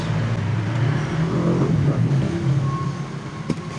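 A washing machine drain motor hooked to test power runs steadily on a bench indoors, a continuous close whirring hum that holds level for the whole stretch with no talk.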